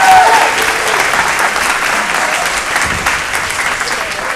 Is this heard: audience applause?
yes